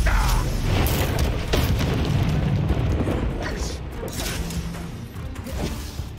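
A Confringo explosion spell in Hogwarts Legacy bursts out as a loud booming blast with whooshing combat effects, followed by scattered pops and impacts fading slightly over several seconds.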